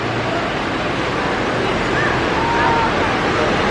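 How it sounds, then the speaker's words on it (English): Rain shower in Fiji, a steady dense hiss of falling rain over a street, with murmuring voices and faint distant sounds mixed in. "lots of rain right now"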